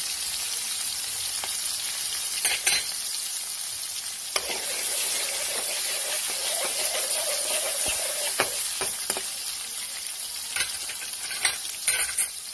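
Chicken and vegetables with ginger stir-fry in a hot pan, a steady loud sizzle with occasional clinks and scrapes of the spatula stirring, close up and without talking.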